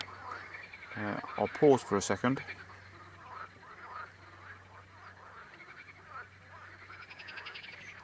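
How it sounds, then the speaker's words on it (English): Thousands of frogs croak in reeds beside a lake at night, a dense distant chorus of rapid rattling calls that carries throughout, briefly overlapped near the start by someone speaking. "that noise you can hear in the background"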